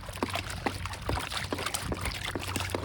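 A gold pan is shaken and swirled in cold water of the Carson River, giving a steady trickling slosh with small repeated splashes at close range, no talk.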